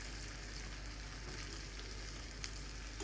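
Sweet potato and pumpkin cutlets deep-fry in oil, giving a steady, faint bubbling hiss with a low hum underneath and one brief crackle, with no speech.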